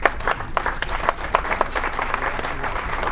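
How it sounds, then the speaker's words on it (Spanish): An audience applauding to welcome a speaker at a talk, with a steady wash of many hands clapping at moderate distance across the whole stretch and no voices over it. "Recibamos con un fuerte aplauso al licenciado Jorge Chávez Rodríguez."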